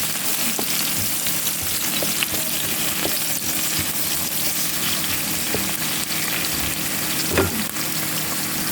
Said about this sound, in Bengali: তেলের মধ্যে পেঁয়াজ কুচি দিয়ে দিচ্ছি।